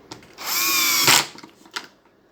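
A power drill drives a screw into a rice cooker during an LCD screen repair, whining loudly and steadily up to speed for about a second before stopping, followed by faint clicks and handling noises.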